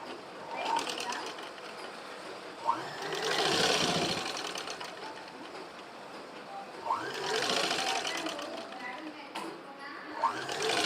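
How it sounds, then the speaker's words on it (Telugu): Sewing machine running in two sustained stitching bursts while sewing a small child's frock, with a voice talking over parts of the work and brief clicks between runs. "ఇలాగే డబల్ ఫోల్డ్ చేసుకొని ఇలా స్టిచ్చింగ్ చేయాలి"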